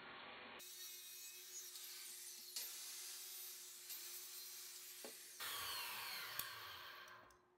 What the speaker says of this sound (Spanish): Voy con la sierra circular